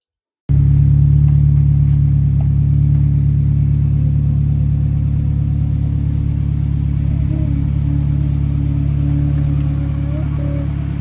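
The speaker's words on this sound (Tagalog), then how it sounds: "Yan ang sasakyan natin ngayong araw na to." A car engine running steadily, a close, loud low rumble holding an even idle-like drone throughout after a brief silent start, with a slight pitch wobble near the end and no voices.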